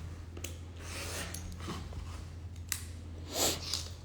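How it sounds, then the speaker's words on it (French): A utility knife slicing a thin paper strip, producing short raspy scraping strokes at close range, repeated several times over a faint steady hum. "Bon, je le fais au cutter pour aller plus vite."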